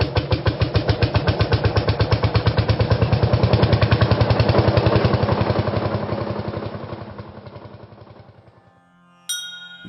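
A tractor engine running in a radio play chugs with a steady, rapid, loud pulse that slowly fades, then cuts out near the end before a brief sharp clatter.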